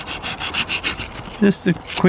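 Sandpaper rubs along a metal secateurs blade in quick back-and-forth scratchy strokes, with a few heavier louder scrapes toward the end.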